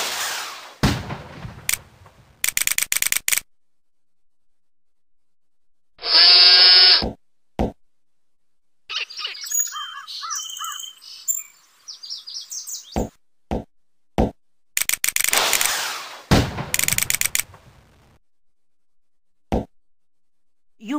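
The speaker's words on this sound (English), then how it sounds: "Harry, Ron and Hermione are going to use their wands to cast magical explosions in" Magical wand blasts in a Lego Harry Potter video game, a series of short, sharp synthetic bursts and crackling pops separated by silences, with brief musical jingles and chimes between the explosions.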